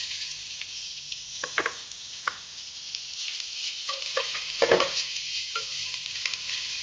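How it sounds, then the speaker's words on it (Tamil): Onions sizzle in hot oil in a steady hiss while a utensil scrapes and clatters against the pan in scattered bursts, close by and with no talking. "எண்ணெய் காஞ்சதும் வெங்காயம் சேர்க்கிறோம்."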